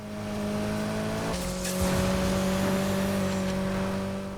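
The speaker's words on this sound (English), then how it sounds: "Those are some fast gear changes." Mitsubishi Evo X engine in the racing game Need for Speed Heat, a steady loud drone broken by one abrupt gear change partway through, then pulling on again with no talk.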